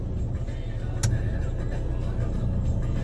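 A car in a driving lesson moves off slowly in first gear, its steady low engine rumble continuous throughout with a brief knock near the start.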